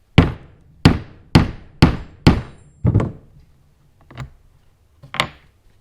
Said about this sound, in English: and then give it a couple of whacks